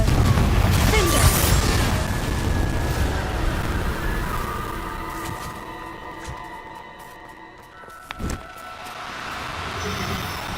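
A Confringo fire spell bursts in a Hogwarts video game, a loud booming blast that rolls off into rumbling debris and decays, with a few lighter impacts later.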